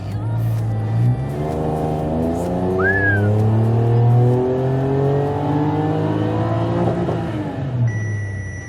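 A turbocharged VW Up GTI conversion revs hard on a dyno during a maximum power run. The engine climbs steadily through its range, loud and close, with a brief chirp and a sharp drop in revs near the end.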